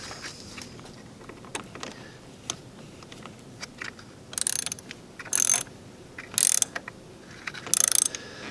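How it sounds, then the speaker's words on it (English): A ratchet tightens the positive terminal clamp on a car battery in four close, crisp bursts of rapid clicking with short pauses between them. "Now we're going to tighten it back up."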